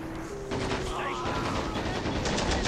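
Dense gunfire from the Men of War: Assault Squad 2 battle, with rapid machine-gun bursts and scattered shots crackling continuously, loud and sustained, with someone talking over it.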